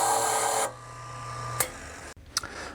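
Brief rasping and filing on a freshly cut key from a key-cutting machine, DC-300 RV Edition, as the burr is removed; a steady machine hum stops early, then a few short scrapes follow, close and moderately quiet.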